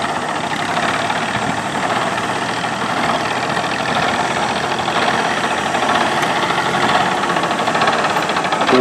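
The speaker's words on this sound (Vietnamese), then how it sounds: "Nghe tiếng bò, nghe cái máy nổ kỳ quá." The loud diesel engine of an old Kubota M4000 tractor rumbles and knocks steadily up close, a constant chugging drone with no voices over it.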